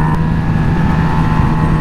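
A Kawasaki H2 motorcycle ridden hard without a proper exhaust fitted gives a loud, continuous engine and exhaust roar, steady and close throughout.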